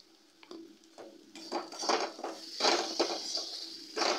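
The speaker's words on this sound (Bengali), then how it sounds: "সমস্ত মশলাগুলোকে দিয়ে ভালো করে কষিয়ে নিতে হবে।" Spices for an egg curry are stir-fried in a pan, with a spatula scraping and clattering against the metal in irregular strokes over a soft, steady sizzle, close by and without talk.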